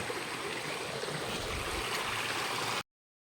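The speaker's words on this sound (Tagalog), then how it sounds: "Yung ilog na maliit, tatatawirin ulit natin." Small river stream flowing, a steady close rush and gurgle of water that cuts off abruptly near the end.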